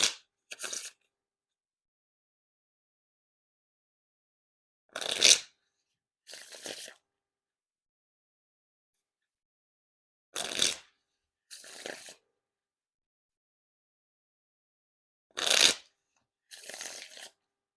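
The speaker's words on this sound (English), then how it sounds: "Now time for the riffle shuffle or bridge shuffle." Riffle and bridge shuffles of a Dan and Dave playing card deck, heard as three pairs of short crisp riffling bursts, each pair followed by a softer cascade, with long silences between and no talking.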